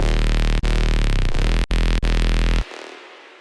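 A dense, distorted synth bass made in Serum, playing its first variation: a loud, full-spectrum growling tone with a few sharp dropouts, cutting off abruptly into a faint tail near the end.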